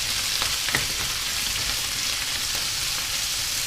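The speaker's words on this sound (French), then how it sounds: "ce que je vais faire, c'est en fait les faire revenir pour les faire caraméliser" Endives frying in a pan over raised gas heat to caramelize give a steady, close, dense sizzle with a few faint stirring clicks and no voices.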